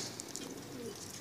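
Banky Ferozpuri pigeons cooing, a soft, low, rolling coo that is faint and close, heard alone against light background hiss.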